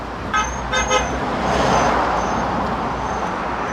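Car horns toot a couple of times over a steady wash of street traffic in Kingston, Jamaica, fairly loud, with continuous road noise and passing vehicles throughout and no talking.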